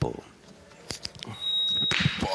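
Time-limit buzzer at a pétanque match sounds as a sustained electronic tone partway through, amid crowd reactions and a sharp clack of boules, with commentary voices nearby.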